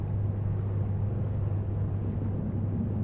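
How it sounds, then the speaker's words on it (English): A ship engine runs at full throttle on autopilot in the game Seafarer the Ship Simulator, a steady, loud, low droning rumble with a constant hum and no breaks. "If you listen, I think the engine throttle's up. Do you hear that?"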